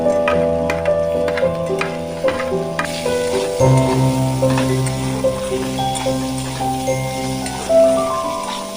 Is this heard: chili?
yes